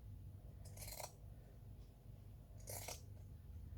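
Scissors cutting fabric pieces for a floral vase craft: two short, crisp snipping bursts about two seconds apart, close and fairly quiet over a faint room hum, no voices.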